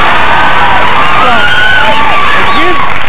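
A television studio audience at a 1992 sketch comedy show claps and cheers loudly, with whoops and excited shouts rising over a continuous wall of applause, close and filling the room.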